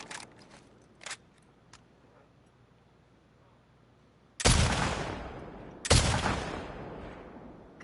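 Two loud, close gunshot blasts with long echoing tails ring out in The Last of Us Part II, after a stretch of quiet ambience broken by a few faint clicks.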